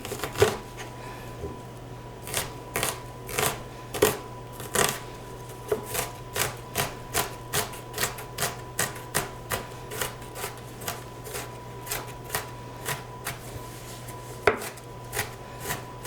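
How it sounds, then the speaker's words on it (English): Knife chopping onions into small dice on a cutting board in a home kitchen: a long run of crisp, evenly spaced cuts, roughly one or two per second, close and clear over a faint steady hum. "The onions cut up small dice."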